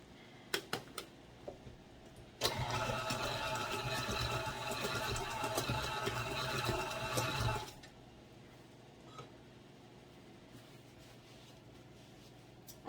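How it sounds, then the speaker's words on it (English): An electric mixer churns semisweet chocolate and butterscotch chips into monster cookie dough in one steady, moderately loud run of about five seconds, set apart by quiet stretches before and after. "I don't want the mixer to bust up the chips too much"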